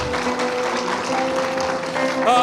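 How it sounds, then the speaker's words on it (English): Applause from a crowd at a large gathering, a dense, steady patter of many hands clapping, mixed with voices and a few cheers. "let us clap and just appreciate this great gift of today"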